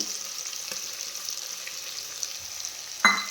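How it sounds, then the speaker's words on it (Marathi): Colourful vegetables with cumin sauté in a pressure cooker with a steady, close frying sizzle throughout, ending in a brief scrape of stirring. "भाज्याला तोपर्यंत पूर्ण परतून घेऊ"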